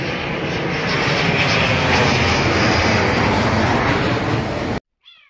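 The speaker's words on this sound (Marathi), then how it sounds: "हे पहा, वरून विमान कसे जात आहे पहा." An airplane passes overhead above a residential area, producing a loud, steady broadband roar that holds for nearly five seconds and then cuts off abruptly. No one speaks.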